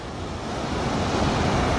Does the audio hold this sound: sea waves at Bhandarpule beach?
yes